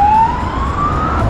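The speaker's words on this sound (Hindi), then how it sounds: "अभी यहाँ से बहुत सारी एम्बुलेंस एंड पुलिस की गाड़ियाँ जा रही है।" Siren wails from ambulances and police cars passing through city traffic in Ukraine, one steady rising tone held loud and close for about a second over a dense rumble of road noise.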